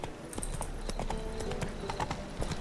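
Hooves of Roach, a horse in The Witcher 3, clop in a steady trotting rhythm, close and fairly loud, with faint ambient game sound underneath and no talking.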